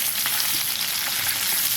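Onion and green chilli fry in hot oil, giving a steady, close hiss and crackle of sizzling that runs without a break.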